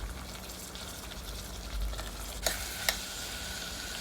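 Brinjal pieces fry with onions in a pan for a brinjal tomato curry, giving a steady soft sizzle with a couple of sharp clinks from stirring.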